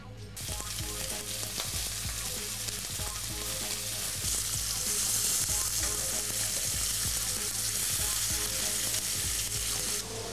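Spring lamb seasoned with salt and cumin sizzles steadily in olive oil in a pan, a dense, continuous crackling fry that holds loud and even throughout with no voices.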